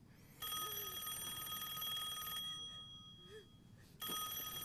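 An old-fashioned telephone bell rings indoors in a Republican-era household, one long bright ringing burst, a short pause, then the ring starting again, with no talking around it.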